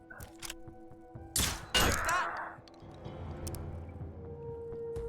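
A weapon fires in the turn-based tactics game Mutant Year Zero: Road to Eden, giving two sharp, loud broadband blasts about half a second apart. A metallic clang and a fading tail follow, with game ambience humming underneath.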